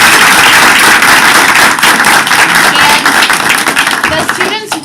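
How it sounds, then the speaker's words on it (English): Loud, dense applause from a school board meeting audience honoring a school team, with scattered louder claps and some voices mixed in, tapering near the end. "Can we just give everybody from the Phoenix team a round of applause?"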